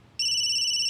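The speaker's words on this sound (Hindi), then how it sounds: "अनीश का वीडियो कॉल अचानक?" A phone rings with an incoming video call in a television drama episode: a steady electronic ringtone tone starts abruptly and holds loud and clear over faint room noise.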